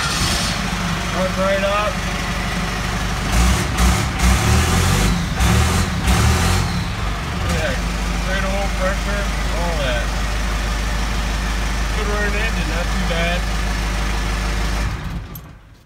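A Cummins 4BT diesel swapped into a CUCV truck idles steadily and close, a low continuous rumble throughout, with someone talking over it and a brief drop-off at the very end.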